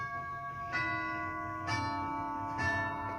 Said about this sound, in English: it is the sound of freedom dying on my 1976 bicentennial version grandfather clock